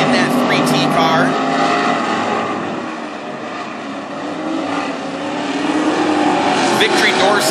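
WISSOTA Midwest Modified race cars roaring around a dirt speedway, loud and close, engines dipping slightly mid-way then surging again as cars pass, with a commentator's voice over the PA underneath.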